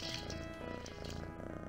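A cat sound from the Windows 3.1 game Madeline and the Magic Puppet Show: a brief, steady, buzzing purr-like tone, close and continuous, with a bright electronic texture.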